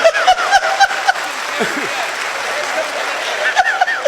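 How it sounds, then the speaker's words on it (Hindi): Audience applause at a Hindi kavi sammelan poetry recital: a steady, full burst of clapping from a live crowd that swells and carries on, with brief voices and light laughter mixed in. "ताली गूंजनी चाहिए, कमाल की बात है।"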